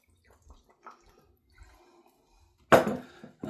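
Worcestershire sauce being poured into a dish while making tacos, with a few faint drips and small clinks followed by a short, close liquid splash near the end.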